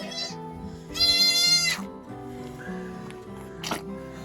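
A newborn baby goat on a homestead gives a few thin, high, wavering bleats: a brief one, then a longer strained cry and a short final call, close by with quiet gaps between.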